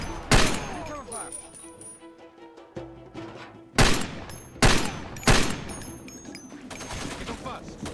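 Gunfire in the video game Far Cry 2: several loud sharp shots and short bursts spaced over a few seconds, with a quieter stretch of lingering rumble and game sound between them, and voices talking over the action.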